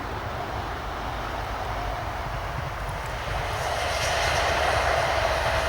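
A steady broadband roar of a passing train, heard from some distance and swelling slightly louder toward the end, with no voices.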